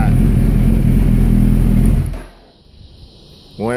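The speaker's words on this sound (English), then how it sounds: "Alright, bike is running." A 2008 Suzuki Hayabusa motorcycle engine running close by: a loud, steady idle rumble that cuts off abruptly partway through, leaving quiet before a short rising sound returns at the end.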